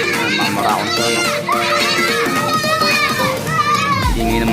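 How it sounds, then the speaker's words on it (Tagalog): Children playing noisily outdoors, a dense, continuous mix of many young voices shouting and chattering close by, with adult talk mixed in. "Ingay ng mga bata."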